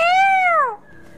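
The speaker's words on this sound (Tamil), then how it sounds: "கூப்பிட்டா மியாவ் பண்ணுற?" A single drawn-out, rising-then-falling meow from a cat in a Christmas children's puppet show, loud and close, followed by a quiet pause.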